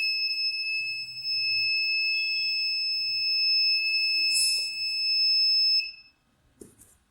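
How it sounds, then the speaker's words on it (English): A shrill electronic alarm buzzer from an Osoyoo IoT smart home kit, triggered by a lighter flame, buzzes continuously at a high pitch for several seconds, then cuts off, leaving faint handling noises. "So this is the buzzer which turned on"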